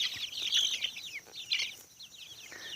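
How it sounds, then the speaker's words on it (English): Young, fast-growing chickens in a farm yard cluck and chirp close by in a run of overlapping calls with short pauses between bursts. "So here's our little chickens."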